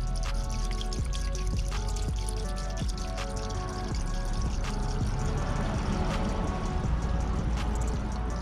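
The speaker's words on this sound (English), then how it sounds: "Now I'm just gonna add some coolant." Coolant poured into the radiator of a 2012 Honda Civic, a steady close trickle and gurgle running throughout with small clinks and taps, with no talking.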